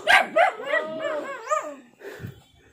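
A nearby dog gives a couple of short barks, then a drawn-out whining yowl with rising and falling pitch, fading into quiet.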